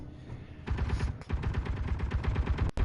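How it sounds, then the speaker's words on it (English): Rapid bursts of gunfire in the underground survival video game Helios crackle in a steady stream, with one sharp louder shot near the end. "wouldn't be a day without some gunfire."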